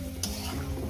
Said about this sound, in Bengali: কচুটা আমার এখনো ঠিকঠাক ভাজা হয়নি। আমি আরো 5-6 মিনিট ভেজে নেব।